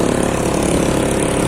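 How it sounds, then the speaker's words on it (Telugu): A loud scooter engine at the Peddagattu Lingamanthula Jatara in Telangana, a harsh continuous droning roar, close and steady for a brief moment. "అబ్బా ఆ స్కూటీ సౌండ్కి"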